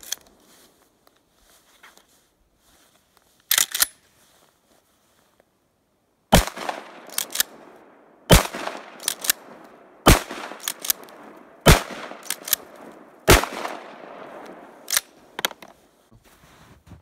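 Loud shotgun blasts firing Federal rifled slugs through a tube-fed shotgun fitted with a Canuck Commander Defender Regulator +1 tube extension, about a dozen sharp reports spaced irregularly, each with a brief echoing tail, outdoors.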